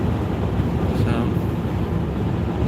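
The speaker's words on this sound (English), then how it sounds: "the Vic is doing good. I'm driving it right now." A car called the Vic drives along a road, giving a steady, loud rumble of engine and road noise inside the cabin, with a voice talking over it.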